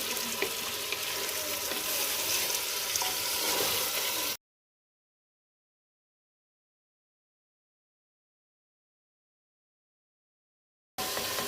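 Meat (gosht) browning in a pan for shalgam gosht gives a steady, fairly loud hiss for about four seconds, then cuts to silence before the hiss briefly returns at the end.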